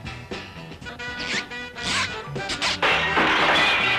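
A cartoon pane of glass smashes with a loud crash over a busy musical score, with further bright shattering bursts and clatter carrying through to the end.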